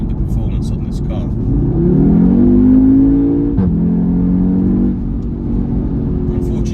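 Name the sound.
Audi TTS 2.0L engine accelerating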